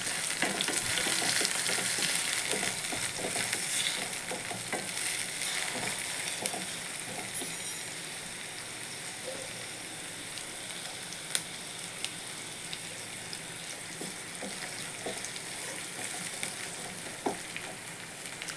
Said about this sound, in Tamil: இப்போ நம்ம கட் பண்ணி வச்சுருக்க ஆனியன் போட்டிருக்கோம்.